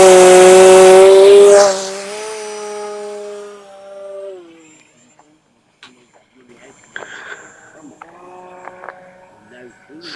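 A small MayBee profile foam RC plane's electric motor runs at throttle, starting as a loud close whine with strong harmonics, then dropping in pitch and fading as it flies away, leaving faint distant buzz and light knocks.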